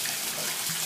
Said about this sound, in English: Go ahead and start by turning the water on